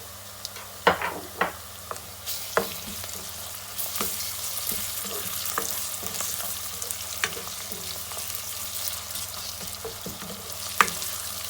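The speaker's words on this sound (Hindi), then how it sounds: "अब इसके अंदर मैं डाल दूंगी लहसुन अदरक का पेस्ट और इसे 2-3 मिनट के लिए मज़ीद हम लोग भूनेंगे" Onions with garlic-ginger paste sizzle steadily in a pan while a spoon clinks and scrapes, stirring in bursts, with the frying hiss swelling partway through.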